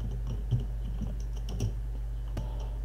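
Scattered keystrokes on a computer keyboard while entering a terminal command in Ubuntu, a few light clicks spread over a steady low hum, close and fairly quiet, with no talking.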